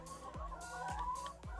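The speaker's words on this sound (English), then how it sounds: "Noisy chickens right behind me." Chickens cluck and squawk nearby in short overlapping bursts in Hobbit Town, Chiang Mai, Thailand, with a few sharp low thumps among them.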